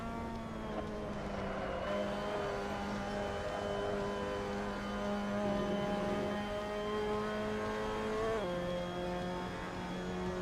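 A Mazda MX-5 Cup race car's engine at Sebring in Assetto Corsa drones steadily in gear, holding a sustained buzzing tone that dips briefly near the end before rising again, with no talking.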